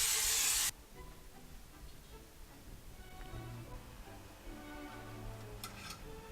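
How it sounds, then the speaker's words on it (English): Cooking oil sprays into an air fryer basket in one short, loud hissing burst, followed by quiet kitchen background and faint clicks. "I like to spray the air fryer with cooking oil so it doesn't stick."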